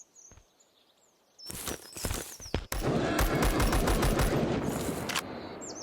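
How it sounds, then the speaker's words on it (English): Bursts of subsonic-ammo gunfire from the video game Zero Sievert: scattered single shots, then a sustained loud stretch of rapid fire, with quiet ambience and faint bird-like chirps around it. "at least we're firing these rounds into the right thing. This is subsonic ammo."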